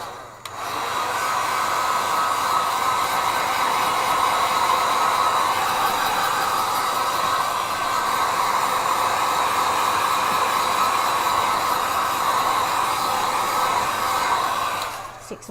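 A hair dryer blows steadily at close range over a watercolor painting of a snowy Christmas scene, starting abruptly, holding a constant whooshing hum for about fourteen seconds, then cutting off.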